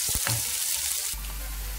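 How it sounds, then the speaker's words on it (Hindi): Chopped onion frying in a pan as it turns golden brown, a short burst of close, even hissing sizzle with a brief clatter near the start. "तो आइए इसे हम अब गोल्डन ब्राउन कर लेते हैं प्याज को"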